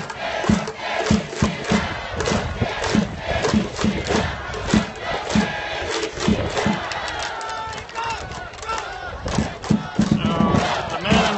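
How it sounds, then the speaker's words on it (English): A stadium crowd at a Swallows–Dragons baseball game in Akita chants a cheer in unison, loud and continuous, with rhythmic pulses, shouts and a pounding beat throughout. "So the man right over there is leading the cheers."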